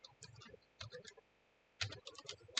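Quiet clusters of keystrokes on a computer keyboard, tapped in two short bursts separated by a pause, close and soft with no talking.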